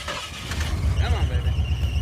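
Ford Bronco engine cranking reluctantly after drag racing, a rapid rhythmic starter churn close up with a brief squeal, not catching.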